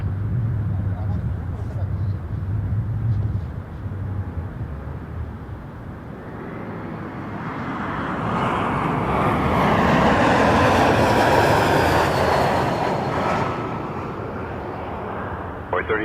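An airliner landing at Toronto Pearson Airport, its broad jet roar swelling from a distant rumble to a loud peak and then easing, with radio talk from air traffic control heard over it.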